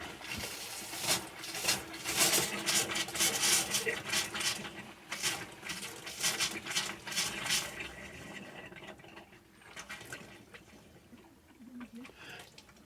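Water gushes and sputters from a caravan tap opened after air has been let into the plumbing during winterising, loud and irregular at first, then thinning to a quieter trickle for the last few seconds.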